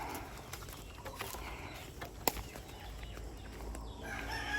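Roosters and free-range chickens, White Kelso fowl in a free-range area, give faint mid-distance flapping and scattered clucks over a steady outdoor hiss, with one sharp brief call near the middle.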